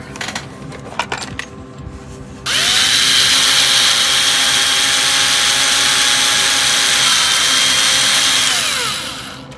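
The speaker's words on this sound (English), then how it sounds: "And we're going to need a larger drill bit." A loud power drill with a larger bit whirs steadily for several seconds into a plastic model ship kit after some clattering handling noise, then winds down at the end.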